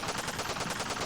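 Video game gunfire in Streatham Hill Stories: a continuous, dense rattle of rapid automatic shots, steady and fairly loud throughout, with no voices.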